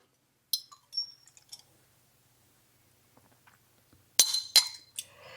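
Glass jars clink and tap on a kitchen counter while pickled onions are being prepared, a few sharp, close clinks at the start, a quiet pause, then a louder cluster of clinks.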